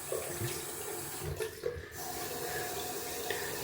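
Water from a tap runs steadily into a sink as a shaving brush is rinsed, a close, even splashing stream with a slight change in flow partway through.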